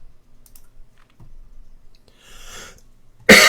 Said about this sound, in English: Excuse me on my cough.